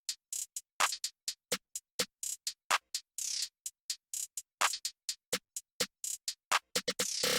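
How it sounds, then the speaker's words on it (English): A hip hop beat plays alone: rapid, crisp hi-hat ticks in a rolling, stuttering pattern, punctuated by sharp claps and snare hits, all tightly rhythmic and dry. "This is what that hi-hat sounds like with the clap and the snare."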